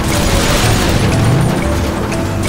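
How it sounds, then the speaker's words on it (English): A loud, dense crashing burst as a barrier is shot and smashed in a motorcycle stunt ramp video game on a river, the impact rumble running steadily through the whole moment. "He shoot the barrier."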